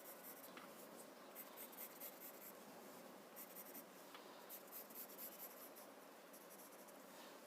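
A pen scratches steadily across paper, drawing a zentangle border: a faint, continuous, close scraping with small rhythmic strokes and no voices.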